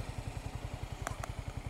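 Motorcycle cruising on a road, its engine giving a steady, rapid low throb with a faint clatter near the end, heard alone and fairly quiet.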